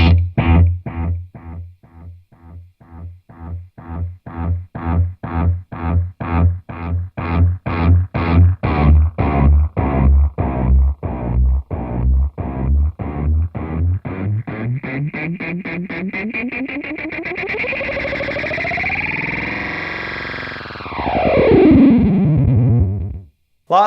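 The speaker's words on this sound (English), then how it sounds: "Let's have a listen to those self-oscillation sounds that start feeding back and feeding in on itself." A guitar note runs into a BOSS DM-2w Waza Craft delay pedal, and the repeats pile up into rapid echoes that blur into self-oscillating feedback, then sweep and swell loudly at the end.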